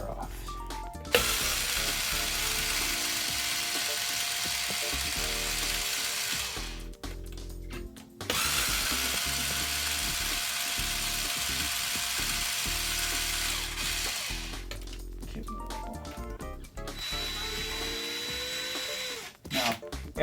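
Hand ratchet removing the wheelie bar from an Arrma EXB RC car during a rear-end rebuild, giving long runs of dense rapid clicking broken by short pauses and small handling noises, close up.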